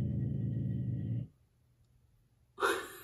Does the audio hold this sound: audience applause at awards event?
no